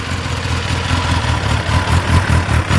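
A new 2021 Kawasaki ZX10R ABS sportbike idles steadily close by, its engine giving a continuous, slightly uneven low rumble with a faint rhythmic pulse and no talking.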